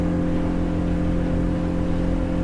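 A Hewescraft 250 Alaskan boat running on a single Yamaha 200 outboard engine while getting up on plane, giving a steady, loud, continuous drone with a low hum that holds for the whole stretch.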